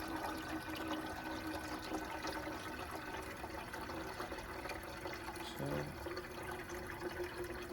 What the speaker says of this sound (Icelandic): Og rúmmál vatnsins er að hækka.